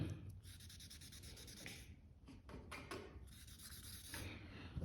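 Sandpaper rubbing a clearcoat run on car paint by hand, steady scratchy strokes in repeated bursts with short pauses, close and fairly faint.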